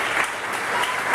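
A church congregation claps in strong, dense applause for the King, a steady wash of hands with no pauses across the brief moment.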